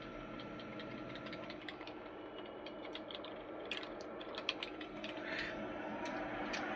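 Keys tapped on a desktop computer keyboard plugged into a front panel USB port during a repair shop check, a quiet, irregular run of light clicks over a steady machine hum, with a brief louder cluster midway.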